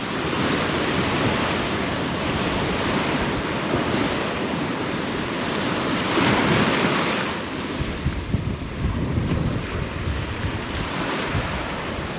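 Waves from the Indian Ocean wash continuously onto the shore, a steady broadband roar of surf with gusts of wind buffeting the microphone.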